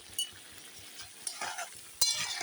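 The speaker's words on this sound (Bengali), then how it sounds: "এখন ভালো করে আমি কষিয়ে নিচ্ছি" Potato, peas and paneer curry with spices is stir-fried in a pan: soft scraping stirs and bursts of sizzling come close up in uneven strokes, growing louder toward the end, with no voices.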